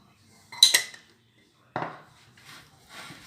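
Mashed potato is stirred with butter and pepper in a bowl: a few separate scrapes and clinks of a utensil against the dish, soft and close, with quiet gaps between strokes.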